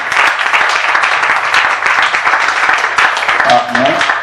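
A congregation at a religious gathering applauds and cheers, producing loud, continuous clapping with a steady low hum beneath it and a voice rising near the end.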